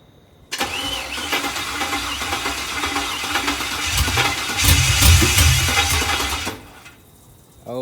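A Chevrolet C10 truck engine starts for the first time after a rebuild: a brief starter crank catches into a loud, rough, revving run that surges, holds for several seconds, then cuts off abruptly, recorded up close.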